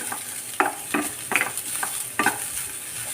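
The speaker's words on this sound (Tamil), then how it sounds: "இன்னும் கொஞ்சம் நேரம் வதங்கட்டும் பாருங்கள் நல்லா வதங்கி எல்லாம் தனித்தனியாக வந்துருச்சு பாருங்கள் இந்த பருப்புகள்லாம்" Lentils and spices sauté in a pan for a cluster bean paruppu usili, with a steady soft sizzle and about five distinct spatula scrapes at irregular intervals, close and alone.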